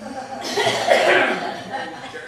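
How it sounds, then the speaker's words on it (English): A burst of coughing from a crowd, several coughs overlapping at once, with a little laughter mixed in. "Could we all just cough together at one time?"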